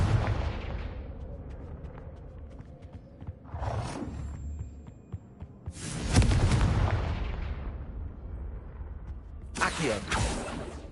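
Fire spell explosions from Hogwarts Legacy: three loud broadband bursts with roaring tails, spaced a few seconds apart over a low rumbling game backdrop.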